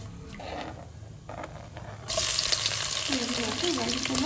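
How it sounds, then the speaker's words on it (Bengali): Ingredients fry in hot oil in a pan for chicken pulao, a steady close sizzle that grows louder and brighter partway through as more goes in, with faint stirring. "আট দশ সেকেন্ড একটুখানি ফ্রাই করব"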